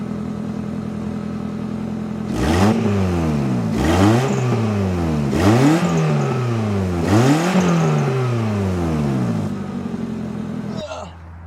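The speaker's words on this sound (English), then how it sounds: "So let me set up the camera, I'll give you a couple revs." A 90s JDM classic car with a louder aftermarket exhaust idles, then revs four times in quick succession, each rise and fall sweeping up and dropping back to a rough idle, close and loud.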